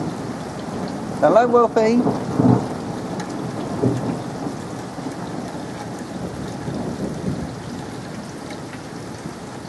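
Heavy rain pours steadily outdoors as a constant dense hiss, with a brief vocal-like burst early on and a person speaking over it.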